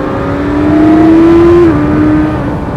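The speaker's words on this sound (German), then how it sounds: "Der Typ hat gerade auf 170 beschleunigt" A Suzuki GSX-S1000GT motorcycle engine pulls hard under acceleration, a loud steady rising whine that climbs in pitch, drops briefly as it shifts, then carries on close and strong.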